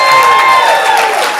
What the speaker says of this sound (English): Give Gary a round of applause.